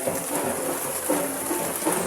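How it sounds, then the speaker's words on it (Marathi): Rain falling steadily in Nashik while sheltering under a stall, a dense, even hiss of drops with faint patters, no voices. "पाऊस येतो इथे"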